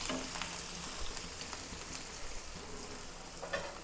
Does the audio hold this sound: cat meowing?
no